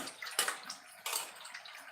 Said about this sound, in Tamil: இப்போ சாம்பாரில் கொஞ்சம் புளித்தண்ணி ஊற்றிடலாம்